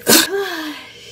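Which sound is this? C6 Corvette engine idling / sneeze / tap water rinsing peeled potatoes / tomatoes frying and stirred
sneeze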